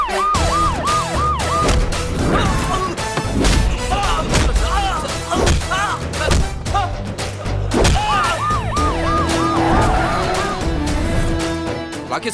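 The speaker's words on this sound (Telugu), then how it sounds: "నెక్స్ట్ సిక్స్టీ మినిట్స్ సిటీ అంతా సైరన్తో మోత మోగిపోద్ది" Police sirens wail repeatedly through a tense action film scene, rising and falling over a dense bed of dramatic score and street noise, loud and continuous throughout.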